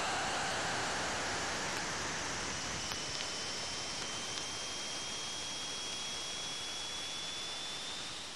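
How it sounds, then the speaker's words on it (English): Ring particles pelting the Cassini spacecraft as it crosses the gap between Saturn and its rings, rendered as a steady, loud hiss of dense noise, with a faint thin tone sliding slowly upward through it. "What you're hearing is ring particles striking the probe."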